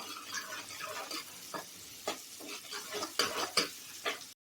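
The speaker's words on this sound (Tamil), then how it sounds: "தட்டி வச்சிருக்கிற பூண்டு எடுத்து போட்டுக்கிறேன்" Crushed garlic goes into a sizzling fenugreek curry in a pan, bringing soft frying hiss and a few quiet scrapes and stirring clinks, close and faint.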